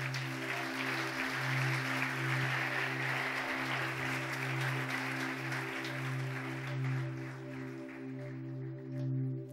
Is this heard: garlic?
no